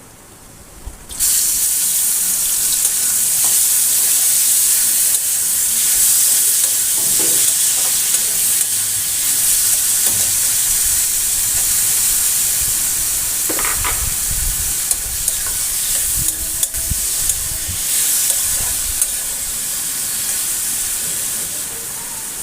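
The inner part of a pumpkin frying in a pan, a loud continuous sizzle that begins abruptly and holds steady throughout, with occasional faint stirring scrapes, close up and with no voices.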